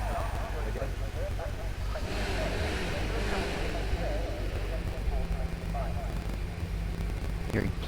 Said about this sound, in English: Hearing plenty of engine noises already.